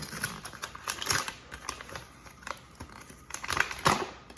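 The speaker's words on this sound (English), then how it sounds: "Let's just get this bag open." A bag of flour is torn and crinkled open up close, giving a run of irregular rustling, crackling and ripping bursts with no talking.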